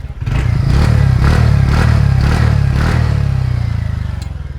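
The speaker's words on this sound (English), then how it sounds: "it's got a gruffy exhaust note that's quite likable" A TVS NTorq scooter engine fires up and settles into a loud, gruff exhaust note, with a steady low throb and a few throttle blips running through nearly five seconds, close by and with no talking.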